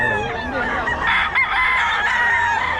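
Sweater-breed gamefowl rooster crowing loudly and close, one sustained cock-a-doodle-doo with strong harmonics over faint background noise.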